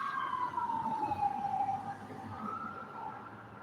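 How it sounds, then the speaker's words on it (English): Emergency siren wailing steadily at mid distance, its tone sliding slowly downward and fading a little toward the end, heard alone over a rumbling outdoor background after a storm. "one thing about this siren, I will say"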